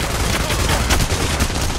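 Dense, continuous gunfire in the video game Payday: The Heist, loud and close with rapid overlapping shots and no clear pauses.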